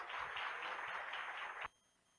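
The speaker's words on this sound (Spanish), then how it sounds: "Un aplauso para los y las panelistas." An audience applauds conference panelists with a steady wash of clapping that cuts off abruptly, leaving near silence after about a second and a half.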